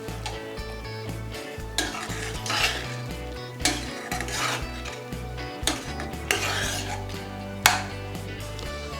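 Indo-Chinese chilli chicken with spring onions stirred in a hot pan, with continuous sizzling and repeated scraping strokes of a spoon against the pan, close and fairly loud.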